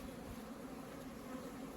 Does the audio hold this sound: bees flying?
yes